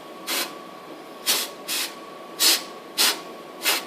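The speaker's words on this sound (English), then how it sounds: "I mean, it's effectively just compressed air." Compressed air bead blasting a 3D printed part with very small beads: five loud hissing bursts, each about a quarter second, repeat at irregular intervals over a steady low hum, close up and with no talk.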